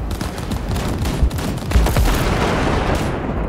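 Sustained gunfire in Cyberpunk 2077 during a bridge crossing, a dense barrage of rapid shots with a couple of heavier booms standing out, loud and continuous throughout with no talking.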